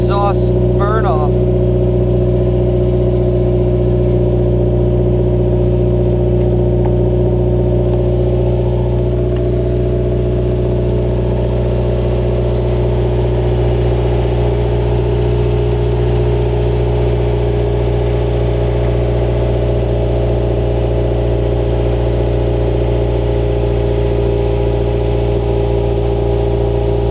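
A Subaru WRX engine runs through a newly fitted exhaust, giving a loud, steady, deep droning rumble held close and constant throughout, with a brief voice near the start.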